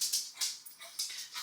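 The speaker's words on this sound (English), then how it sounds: "He's a senior dog." An elderly dog whimpers and whines in short high-pitched bursts, several thin cries repeating close by with no talking.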